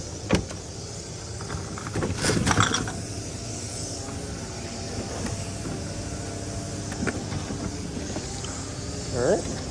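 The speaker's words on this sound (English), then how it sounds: "Let's get the vacuum nozzle going here." A no-kill honeybee vacuum with its nozzle running during a live bee rescue at a high school, a continuous motor drone with brief louder bursts and some handling noise.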